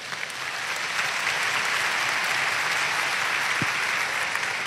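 Sustained audience applause at a Catholic anniversary gathering for Obra de Maria, an even wall of many hands clapping from start to finish, with no voices over it.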